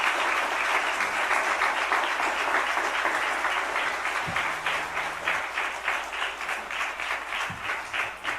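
Church congregation at a Sunday evening service gives warm, sustained applause, a dense loud clapping that holds steady and then gradually thins with a faint brief voice in the middle.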